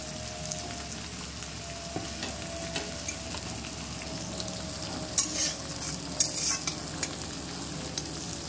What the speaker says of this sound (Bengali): পেঁয়াজ আর লঙ্কা কুচিটা অলমোস্ট ভাজা হয়ে গেছে